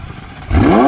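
A car pulls up with a quiet low rumble before its engine suddenly surges louder and revs upward in pitch, close by, brief and with no talk.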